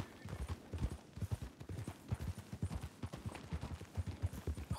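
Horse hooves walking in a video game, a steady run of close, moderately quiet clip-clop footfalls in an uneven, slightly limping rhythm that continues throughout.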